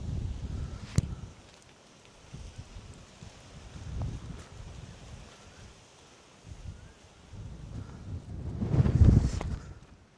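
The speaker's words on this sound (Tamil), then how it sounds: "காற்று அப்படியே தள்ளுதுங்க." Wind sweeps across a hilltop at the Samanar Hills in Kilakuyilkudi near Madurai, coming in soft rushing gusts that swell and fade, with the strongest push near the end.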